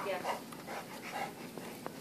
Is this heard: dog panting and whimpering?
yes